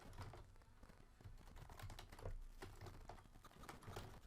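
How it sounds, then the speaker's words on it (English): Fingers tap quickly on a computer keyboard, a soft, even run of close clicks at low volume with no voice. "And I'm going to type metric."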